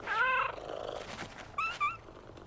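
Cats in the PowerWash Simulator 2 video game, with a soft purring rumble under short high, wavering meow-like cries, close and moderately loud, one cry near the start and two brief ones toward the end.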